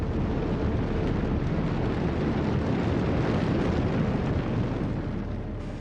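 A submarine-launched nuclear missile roars up from the boat, a dense, steady rumbling blast that holds at full strength for several seconds before easing slightly, with no voices over it.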